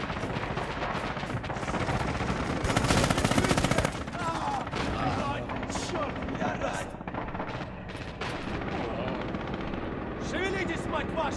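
MG42 machine gun fire in Red Orchestra 2 roars as a dense, continuous rattle of automatic bursts. It is heaviest in a loud stretch near the start and sits under a constant battlefield din.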